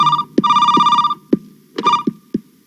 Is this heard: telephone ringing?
yes